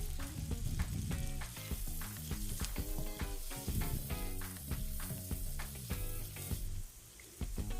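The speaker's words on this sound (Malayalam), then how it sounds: "സവാള ഇതിലിട്ട് നന്നായിട്ട് വഴറ്റുക." Chopped onions sauté in melted butter in a pan over medium heat, a dense, continuous sizzle with frequent crackling pops and stirring scrapes, close and fairly quiet, with no talking.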